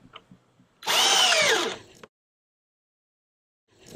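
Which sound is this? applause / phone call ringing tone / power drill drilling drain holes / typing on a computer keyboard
power drill drilling drain holes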